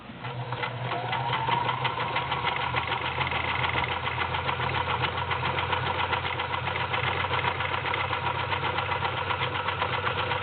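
A vintage Kenmore convertible free-arm sewing machine runs continuously while sewing a wide stretch stitch, its motor whirring with a rapid, even needle rhythm up close.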